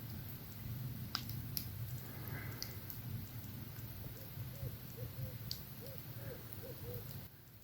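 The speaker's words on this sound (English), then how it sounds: "I also heard an owl there. It's been hooting" A series of soft, rhythmic owl hoots carries at night beside a lake on an overnight canoe trip, repeating in a short run of even notes against quiet background noise and faint clicks.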